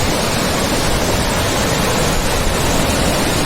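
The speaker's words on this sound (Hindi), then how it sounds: "और ये झरना भी कल्पगंगा में ही मिल रहा है।" A waterfall pours into the Kalpganga river near Kalpeshwar Mahadev temple, a loud, steady, dense rush of water heard up close without any talking.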